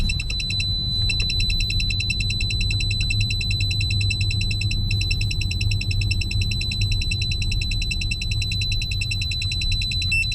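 A laser detector alarm inside a Tesla on a drive through San Francisco's Mission District gives off a loud, continuous high-pitched electronic tone pulsing in rapid steady chirps over low road rumble.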